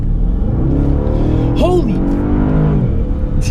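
A Bentley Continental GT V8 S in S mode revs hard and accelerates, the loud V8 climbing in pitch through a quick gear change, heard close from inside the car with a passenger exclaiming.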